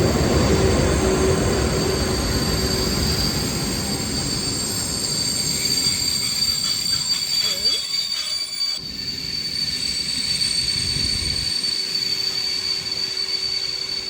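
A train pulling into a station while a traveller waits for a service back to Prague, with a steady rolling rumble, high metallic wheel squeal and hiss sustained throughout, fairly close and loud.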